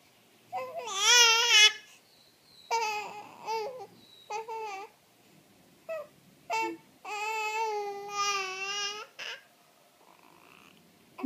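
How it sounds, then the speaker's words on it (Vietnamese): A two-month-old baby gives several drawn-out, wavering cries in separate bursts with short pauses between them, loud and close, sounding more like a put-on whine than real distress. "Chị khóc giả vờ."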